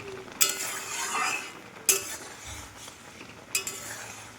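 A Bengali-style raw green mango chutney simmers in a pan as its water cooks off. Three sharp metallic clinks of a spoon against the pan stand out over a faint, low bubbling sizzle.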